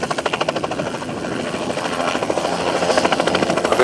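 A helicopter's rotor thumps steadily and loudly throughout, a fast chopping pulse that grows slightly stronger toward the end.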